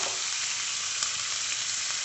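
Onions fry in butter in a pan for masala dosa filling, an even, close hiss of sizzling fat with one small tap partway through and no talking.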